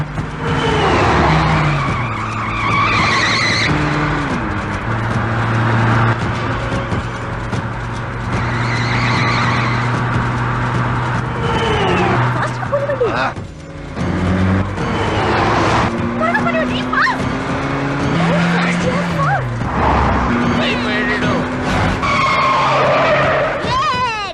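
A car in a movie scene revs and skids, with repeated tire squeals and shifting engine pitch, loud and close over about twenty seconds, mixed with voices and background score.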